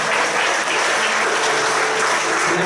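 A church congregation applauding together during a worship service, a dense, steady wash of clapping that holds at full strength throughout with no voices over it.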